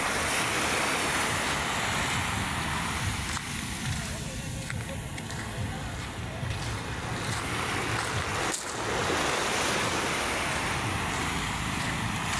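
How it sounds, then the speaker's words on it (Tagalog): Choppy waves wash steadily along the shore of Manila Bay in a continuous loud surf roar, mixed with strong wind buffeting the microphone throughout. "Maalon ngayon, no?"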